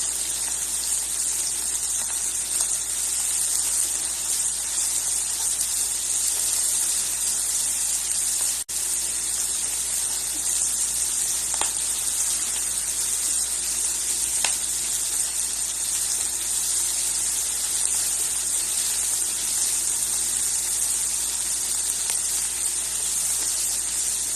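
Chopped onion sautéing in a hot pan while cooking dried fish in tomato sauce, giving a steady, close sizzling hiss that runs evenly throughout with no talking.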